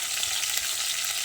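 Tomatoes hit hot oil in a pot of Gujarati green garlic dal, giving a dense, steady sizzle and crackle at close range with no one speaking.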